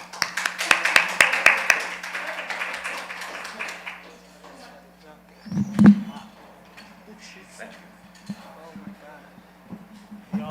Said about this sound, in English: Let's clap him up.